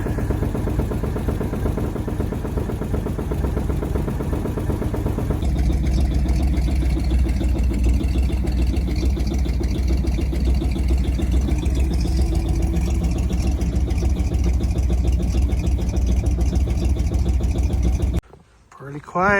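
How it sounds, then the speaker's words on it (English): A 1953 Chevy truck or 1957 Bel Air engine idles steadily after a cold start, a loud, close, continuous rumble that holds even throughout, with voices talking over it, before cutting off abruptly near the end. "Yeah, she's idling."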